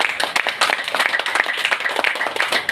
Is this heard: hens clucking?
no